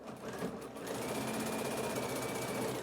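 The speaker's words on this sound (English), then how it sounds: "I'm just going to stitch down the sides here to hold all that in place" A sewing machine stitches down the edges of fabric for a phone stand, running as a steady, fast mechanical whir and needle chatter that holds even and continuous after a brief start-up, close and alone.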